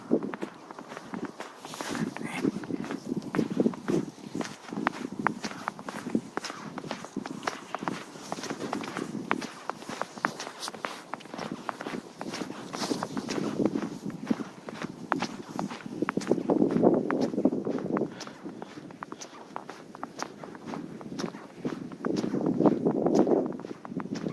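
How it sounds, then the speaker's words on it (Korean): Footsteps crunching through fresh first snow in a village: steady, close, rhythmic steps continue throughout, with no talking. "뽀드득 그 눈길을 걸어가는 그 소리가 장난네요"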